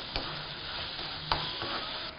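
A mushroom and black pepper mix for thokku sautés in a pan, giving a steady low sizzle. A few sharp stirring scrapes come through, the loudest about a second after the start.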